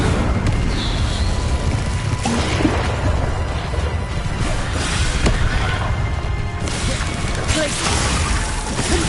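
Spells such as the Incendio fire spell cast in Hogwarts Legacy, producing loud, continuous booming and crashing blasts of combat effects with almost no pause between impacts.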